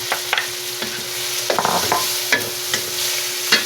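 Shrimp and tomato sauté in a pan with a continuous close sizzle, punctuated by sharp scrapes and taps of a utensil stirring at irregular intervals.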